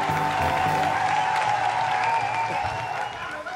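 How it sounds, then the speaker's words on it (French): An audience claps continuously in a loud, sustained burst with crowd noise and a voice mixed in, easing off slightly near the end. "On va les applaudir très fort, s'il vous plaît."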